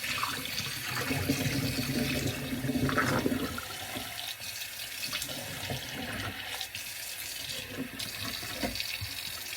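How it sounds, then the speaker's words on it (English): Tap water runs steadily into a kitchen sink as something is rinsed while preparing pork belly, a close, continuous hiss that eases slightly after the first few seconds and carries on alone. "Okay, so I'm just gonna kind of rinse that down."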